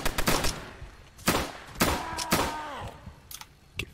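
Sharp, scattered gunshots from ordinary firearms in a Roblox World War II zombie survival game, cracking in irregular bursts and single shots with quiet gaps between, fairly close and alone without talk.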